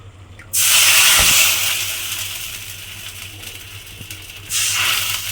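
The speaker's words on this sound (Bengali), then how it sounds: "এইবার আমি এর মধ্যে দিয়ে দেব জল" Water hits a hot pan of tempered whole cumin seeds and curry leaves, bursting into a loud, close hiss and spatter that settles to a steady bubbling sizzle, then flares again near the end.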